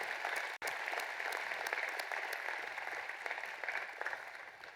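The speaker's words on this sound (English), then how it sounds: "let's give them all a big round of applause" Sustained applause from a crowd at a university commencement ceremony, a wash of many hands clapping at moderate distance with a brief dropout near the start, otherwise continuous and even.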